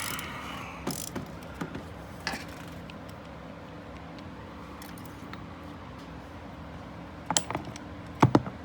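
A ratchet clicks in short bursts while loosening a spark plug on a hot Ford Expedition 5.4 Triton 3-valve engine, close and sparse with quiet gaps between strokes.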